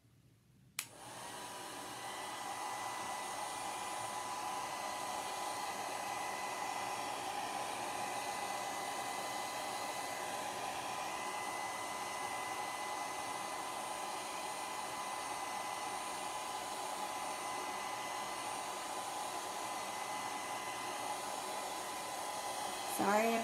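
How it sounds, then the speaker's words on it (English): A hair dryer drying ink on a fabric pillow blows steadily for over twenty seconds, a constant whooshing whir that starts with a click and runs evenly throughout. "let me put the blow dryer on it for a minute"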